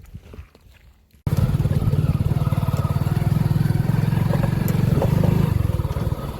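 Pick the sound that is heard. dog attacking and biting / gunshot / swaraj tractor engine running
swaraj tractor engine running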